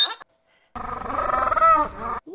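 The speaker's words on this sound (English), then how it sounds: "A donkey sounds like this." A donkey gives one loud, close bray: a sustained, rough, growly call of about a second and a half with a rising, wavering tone, set between brief silent gaps.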